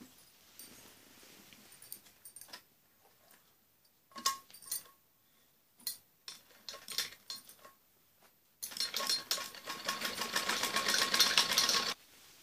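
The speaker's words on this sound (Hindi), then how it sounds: "इसके बाद इसके ऊपर को ऐसे बारीक सिलाई लगानी होती है।" A sewing machine stitches a fine seam around a lined blouse neck, with short bursts of clicking and fabric handling, then a sustained, louder run of rapid stitching near the end.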